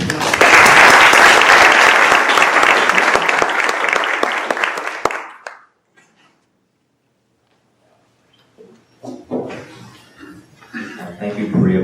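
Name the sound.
audience applauding to welcome panelists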